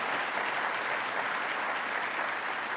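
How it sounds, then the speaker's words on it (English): Steady applause from a crowd at a New York State budget announcement, dense continuous clapping at constant volume with no break. "let's give another round of applause to Tom"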